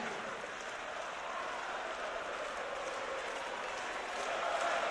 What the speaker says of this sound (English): The crowd has gone absolutely mad here.